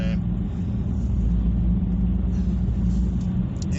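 A street muscle car with a manual gearbox cruising along in eco mode, its steady low engine rumble and road noise heard from inside the cabin, continuous and even throughout.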